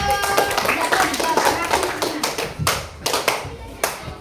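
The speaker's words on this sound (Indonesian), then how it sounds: "tepuk tangan untuk kelompok 1" Classroom applause for a student group after their presentation on Surah Al-Ma'un, a short burst of hand clapping with voices talking over it.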